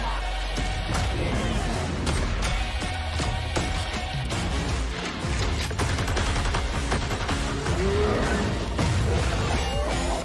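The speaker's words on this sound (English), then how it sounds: "I like how they matched up the gunfire to the beat there." Rapid gunfire and crashing impacts from a video game trailer, punched in time with a loud, driving music track that fills the whole clip with dense percussive bursts.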